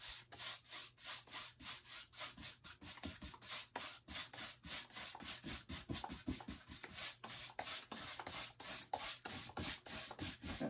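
A brush working acrylic paint across canvas in quick, rhythmic back-and-forth scrubbing strokes, quiet and close, with no talking.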